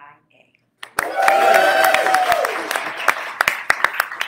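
Audience at a town hall meeting on LGBTQ+ issues in Waukesha bursts into loud, sustained applause with scattered cheers and whoops, rising sharply after a brief quiet and continuing with sharp individual claps standing out toward the end.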